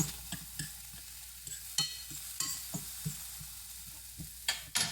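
A tomato charring in a hot pan gives a close, sizzling crackle with repeated sharp pops and stirring scrapes spaced irregularly across a few seconds, with no talking.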